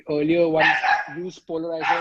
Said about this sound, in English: that's my dog going mad